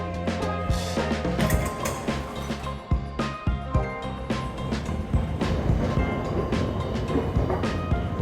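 A Rome metro train runs steadily in a loud, continuous rumble with rhythmic clatter from the wheels and occasional metallic clanks and squeals. The sound is close and fills the whole stretch without any voices.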